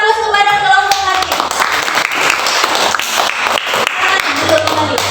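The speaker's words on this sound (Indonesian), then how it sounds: "berikan aplaus kepada kelompok hati" Classroom audience applauding a student group after their presentation, a dense burst of clapping with some voices over it at the start, fading toward the end.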